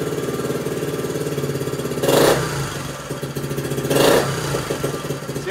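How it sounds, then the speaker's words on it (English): A Honda CT90 Trail 90 motorcycle engine idles with a steady, buzzy single-cylinder putter, then revs up sharply twice when the throttle is blipped, close and loud, with no talking. "we want to give it throttle and rev it and see how it responds"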